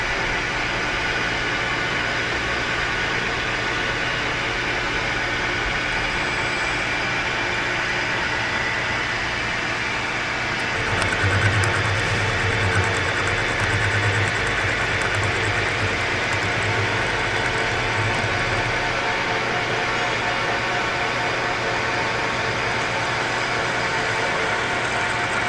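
A lathe machines the inside of a 67mm crankshaft, giving a steady, loud droning hum with broadband hiss that grows slightly heavier about midway and holds to the end, with no voices.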